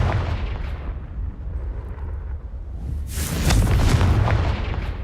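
A Confringo fire spell explodes in Hogwarts Legacy with a loud, deep boom that rumbles on, then a second burst with a bright crackling rush hits near the end.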